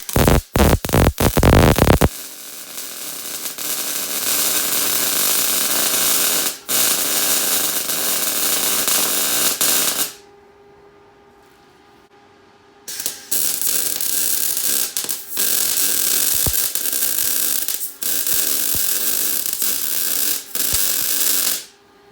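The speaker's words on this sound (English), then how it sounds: "We're going to get my welder set right and get this thing welded up." Welding on a part for a Predator 212 engine, a steady crackling buzz that runs in long continuous bursts, broken by a brief pause of near-silence before the arc resumes.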